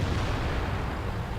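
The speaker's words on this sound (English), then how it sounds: "Let's shoot the wall." Tank cannon firing at a wall in the World of Tanks game, a dense, loud low-frequency boom and rumble that fills the whole short moment without any talk.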